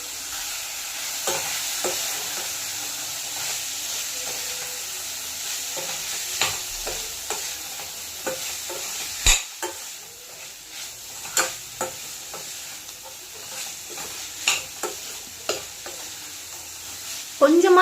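Carrot, beans and cabbage stir-fried in oil for vegetable fried rice, a soft steady sizzle broken by repeated scraping and clattering of a spoon against the pan, close and fairly quiet.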